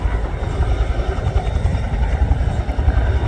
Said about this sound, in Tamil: இருபத்தி நாலான விமான நிலையத்தை நோக்கி இந்த ஹெலிகாப்டர் வந்து கொண்டிருக்கு